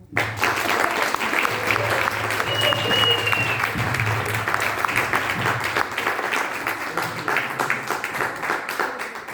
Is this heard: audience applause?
yes